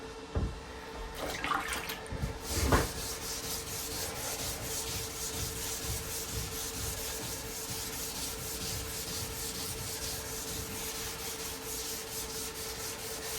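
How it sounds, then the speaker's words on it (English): Body panel of a 1932 Coupe being sanded by hand, a continuous soft rasping rub at moderate distance after a few sharper knocks near the start, steady and unbroken with no voices. "Need some more sand through here though."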